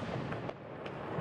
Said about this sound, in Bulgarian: Пиратката гръмна вместо него.